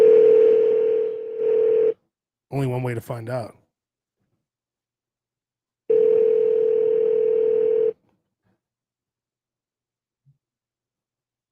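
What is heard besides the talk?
telephone dial tone and dialing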